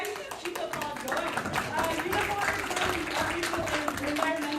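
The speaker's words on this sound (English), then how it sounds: "you can keep the applause going" Audience applause at a public labour forum on nationalizing GM Oshawa, sustained dense clapping from a sizable crowd for several seconds, steady and fairly close.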